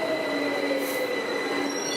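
Train at a London station platform, its wheels squealing in sustained high metallic tones over a steady rumble, close and continuous with no voices.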